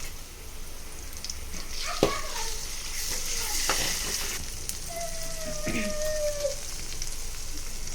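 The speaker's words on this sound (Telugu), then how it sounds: "వేగిన తర్వాత అల్లం పేస్ట్ వేసుకోవాలి" Ginger paste sizzles in hot oil with fried onion and green chili, a steady frying hiss with scattered spatula scrapes and clinks, close up, plus a brief tonal squeak midway.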